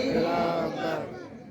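A crowd at a religious gathering answers a Takbir chant with a loud, massed shout of voices that swells and then fades away within about a second and a half.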